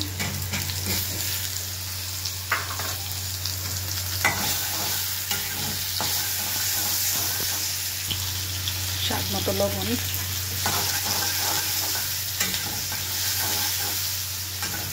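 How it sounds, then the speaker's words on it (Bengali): Onion and chopped tomato fry in oil with bay leaf in a pan, a dense continuous sizzle with stirring scrapes and a low steady hum beneath, close by; someone speaks briefly over it. "এবার পেঁয়াজটা একটু ভাজা ভাজা করবো আর টমেটো গলে যাবে সে পর্যন্ত ভাজা ভাজা করবো।"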